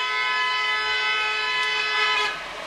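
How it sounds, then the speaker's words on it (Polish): Car horns blare loudly in Naples city traffic, with a sustained, bright, honking tone holding for about two seconds before cutting off, and no talk over it. "To trąbienie to tutaj jest absolutny standard."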